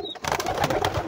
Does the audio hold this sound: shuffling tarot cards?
no